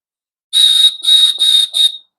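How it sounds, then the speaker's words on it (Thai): An emergency whistle built into an LED flashlight is blown in four short, shrill, loud blasts in quick succession, heard alone. "หากเกิดเหตุฉุกเฉินทำไงนี่ มี นกหวีด"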